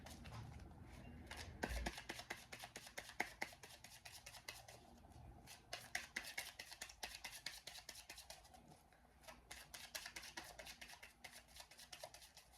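Rapid riffling and flicking of tarot cards being shuffled, repeated bursts of crisp papery clicks close to the microphone, with no talking.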